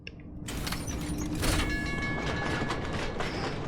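Subway train running in the video game F.I.S.T.: Forged In Shadow Torch: a loud, steady rumble with rattling carriage noise and creaking metal that builds after a quiet start and holds throughout, with no talk.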